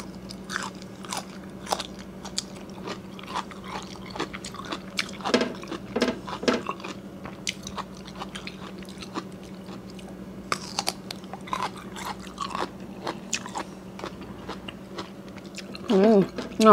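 Boiled bamboo shoots dipped in shrimp salt are chewed and bitten close up, a long run of crunchy, wet bites and squishy mastication sounds with a steady low hum underneath.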